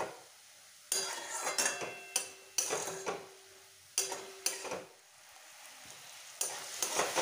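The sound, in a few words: vegetables stir-frying in a pan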